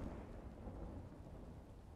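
Thunderstorm in the online role-playing game The Elder Scrolls Online: low, rolling thunder rumbles alongside steady rain, quiet and continuous with no voices.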